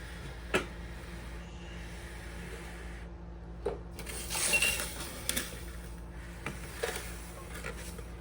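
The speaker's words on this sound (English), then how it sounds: "we're going to use a slotted spoon to scoop out the jalapenos and put them in the jars" Sliced jalapeños in sweet syrup for cowboy candy, scooped with a slotted spoon into glass jars: scattered light clinks and taps of metal on glass over a quiet, wet background.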